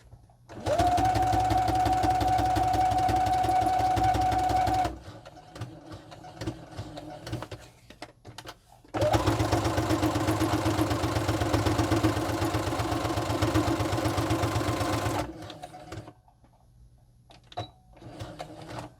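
A sewing machine stitches around a fabric pocket in two long steady runs of fast mechanical whirring, with a quiet pause between them.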